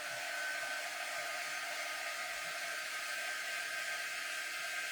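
Hair dryer blowing over a transfer surface, a steady, close, even whooshing hum that holds unchanged throughout with no talk.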